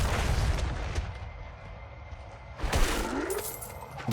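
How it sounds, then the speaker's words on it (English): Explosions and splattering blood effects from Diablo IV while playing a Blood Necromancer: a loud burst, a quieter stretch, then another sharp boom with crunchy debris and a rising whoosh, with no talking. "The series of explosion noises and blood noises following."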